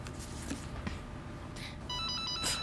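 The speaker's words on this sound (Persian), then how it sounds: "خانم در موبایلتان زنگ است." A mobile phone ringtone rings faintly, with a repeating electronic melody that grows a bit louder toward the end over a low, steady background murmur.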